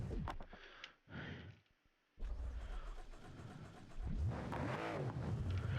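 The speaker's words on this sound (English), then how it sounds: "now I'm just going to push in the clutch and let it crank up" A car engine cranks and turns over in the BeamNG.drive driving game, with short starter bursts, a brief near-silent gap, then a sustained rough running rumble that grows louder toward the end.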